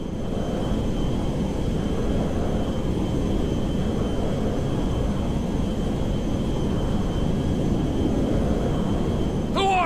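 A jet aircraft flies in the video game GTA 5, a steady roaring engine rush that holds at an even level for the whole stretch, close and continuous with no voices.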